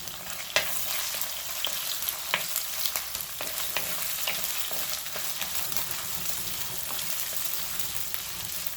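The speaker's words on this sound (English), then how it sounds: "Saute it nicely to get it fried and cooked" Ginger garlic paste sizzling and frying in a pan for a Kerala fish curry, a steady close crackle with sharp scraping stirs every second or so.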